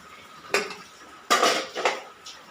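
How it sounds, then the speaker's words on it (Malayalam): A metal kadai pan set onto a lit stove in a home kitchen gives a few sharp metallic clanks and scrapes, one at first, then a cluster of clattering knocks close by, with quiet gaps between. "ഇതിനകത്ത് ഒരു കടായി വെച്ച് കൊടുത്തിട്ടുണ്ട്"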